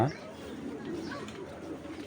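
Pigeons cooing close by in a Bangladeshi fancy pigeon collection, soft low coos running steadily under a voice talking throughout.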